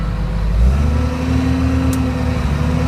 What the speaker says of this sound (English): this video is just going to show that the machine shifts through all the gears without any kind of problem